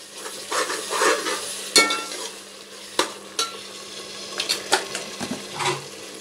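Chicken goes into a pan of oil-separated masala for biryani, with intermittent scraping and stirring clanks of a spoon against the pan over a soft sizzle, the strokes irregular and close.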